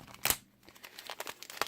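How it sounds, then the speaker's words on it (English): A plastic bag crinkles close by as it is grabbed during the teardown of a toy car, with a few short rustling bursts and quiet handling noises between them. "a plastic bag"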